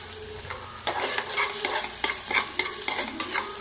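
Onions fry toward brown for guguni while a spoon stirs them, with a sharp sizzle and a quick run of scrapes and clinks against the pan, close and alone.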